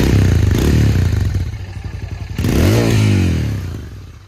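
A Royal Enfield Interceptor 650 motorcycle engine revs loudly up close, dipping briefly before surging again with a throaty, rising roar that fades slightly at the end.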